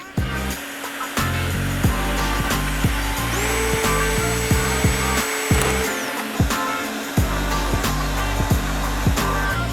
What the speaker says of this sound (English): now before we start drilling it out, we're going to get our shop vac ready to catch all the shavings